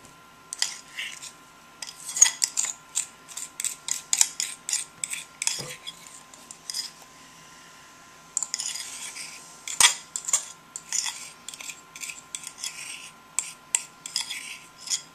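A spoon clinks and scrapes against a bowl while hop yeast cake mixture is stirred together with potatoes. The bright, irregular taps come close and fairly loud in bursts, with a short pause midway.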